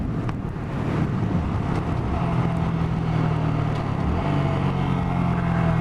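Honda Grom motorcycle cruising at top speed, a steady engine drone with a low hum that shifts pitch midway, buried under heavy, constant wind buffeting on the microphone.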